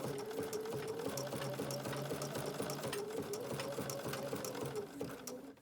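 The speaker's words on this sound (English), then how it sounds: "I sew over it with my applique stitch, and that's going to secure it" A Bernina sewing machine running steadily while sewing an appliqué stitch with an open toe foot, a close, continuous mechanical whir with rapid rhythmic needle clatter throughout.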